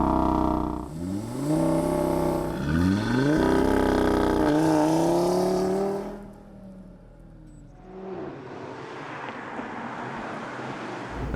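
Audi RS3 Sportback quattro, a 2016 hot hatch with 367 hp, revs hard in repeated rising engine sweeps up close, then drops away to a quieter whooshing road and wind roar.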